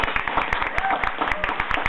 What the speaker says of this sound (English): Let us cheer.